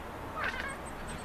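A cat gives a short, high-pitched chirping meow, quick and faint, against a quiet background.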